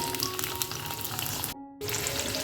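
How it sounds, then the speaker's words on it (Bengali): Cashews, raisins and washed Gobindobhog rice frying together in oil, making a steady, bright crackling sizzle close up that cuts out abruptly for a brief moment before resuming. "কাজু কিশমিশের সাথে গোবিন্দভোগ চালটাকে খুব ভালো করে ভেজে নিতে হবে"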